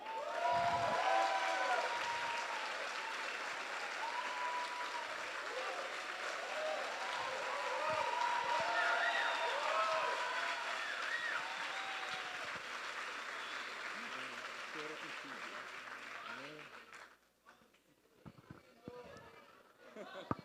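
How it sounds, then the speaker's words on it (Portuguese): A church congregation claps steadily for a long stretch, with scattered voices and murmuring mixed in, before the applause fades and drops away to near quiet at the end. "Eu queria que a igreja aplaudisse o Senhor na vida dele"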